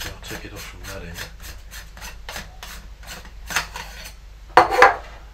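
Metal parts of a vintage hand-held brass telescope being unscrewed and slid apart to remove the lens cell: a steady run of short rasping, scraping strokes, close and fairly quiet, ending with a couple of louder clicks.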